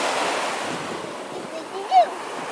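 Surf washes onto Panama City Beach in a steady close wash of breaking waves with wind noise, and a brief high voice cry near the end.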